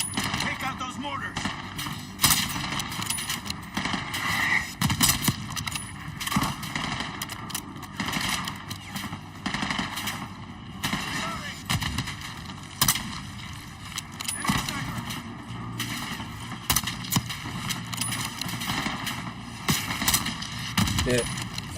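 Mortar rounds and gunfire pound through a battle in the shooter game Call of Duty: Black Ops 6. Irregular sharp shots and thumping impacts repeat throughout, mixed with voices talking.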